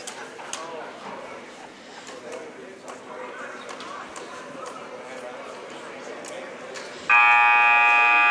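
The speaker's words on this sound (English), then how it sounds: "buzzer's ringing" A high school basketball game's buzzer sounds late, a loud sustained electronic tone that cuts in over gym crowd noise, with talk and squeaky shoe scuffs before it.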